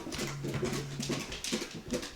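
A puppy whimpering in chilly lodging on a trip, soft whiny tones running through a steady background hum, near and fairly quiet, no talk over it.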